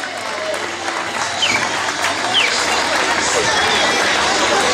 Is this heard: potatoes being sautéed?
no